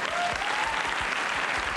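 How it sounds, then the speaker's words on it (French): Studio audience applause on a French TV entertainment show, loud and continuous, a dense crowd of clapping filling the whole short stretch with no voices on top. "Je vous demande de l'applaudir."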